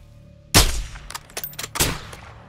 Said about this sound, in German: Hab ihn. Saubere Schüsse.